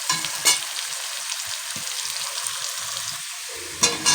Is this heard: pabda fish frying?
yes